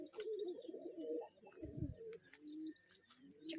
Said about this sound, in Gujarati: ઉપર કબૂતર છે,